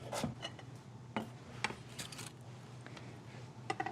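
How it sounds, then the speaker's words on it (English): A knife cuts kohlrabi into thin julienne strips, producing quiet, irregular taps and scrapes on a cutting board, close and soft with no talk. "we're going to do a julienne cut, which is kind of like a matchstick"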